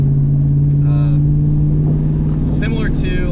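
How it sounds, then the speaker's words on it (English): A Ford F-150 5.0 pickup's Borla ATAK exhaust drones with a steady low rumble throughout, loud and close, while a person talks over it. "It's not drone, but it's definitely very noticeable exhaust change"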